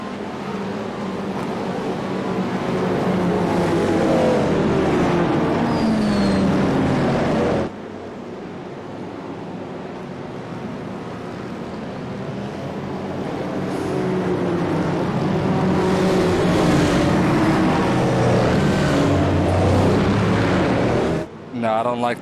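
A GTE race car engine in the iRacing sim at Watkins Glen drones loudly through a tire warm-up, rising and falling with throttle and gear changes, broken by a brief dip and a sharp cut near the end.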